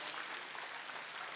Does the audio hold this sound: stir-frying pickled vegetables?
no